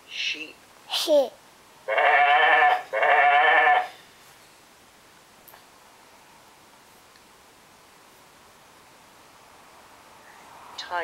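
A person imitates a sheep bleating: two long, wavering "baa" calls up close, preceded by a few short vocal sounds, then near silence.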